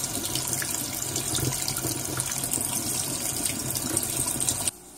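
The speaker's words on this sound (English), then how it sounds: "Now once I start the water running from here" A tap runs steadily into a Python water-change tube for a fish tank, a dense, hissing rush of water, loud and close, cutting off abruptly near the end.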